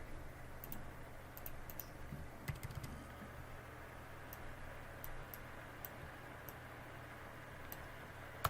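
Computer keyboard keys are pressed for Enter and Control-S in Photoshop, a few faint isolated clicks over a quiet steady room hum, with no talk.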